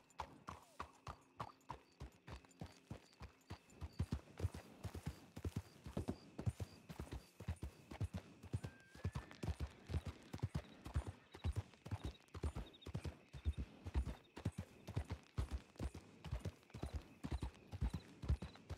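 Horse hooves clip-clop steadily and rhythmically throughout a Red Dead WildRP video game scene. They are close and moderately loud, with a brief faint whinny partway through.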